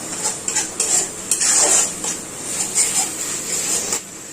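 A spoon stirs turmeric through doi katla fish curry in a pan, scraping and clinking against the metal over a gentle sizzle, with continuous close stirring strokes.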